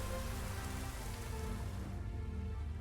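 Steady rain falling in The Witcher 3, a dense even hiss of drops on surfaces that thins out slightly toward the end, with no voices.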